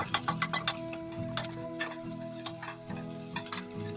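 Green chillies and garlic frying in oil in a pan for Telugu-style palak fry, a steady close sizzle with repeated rhythmic scraping and stirring strokes of a utensil against the pan.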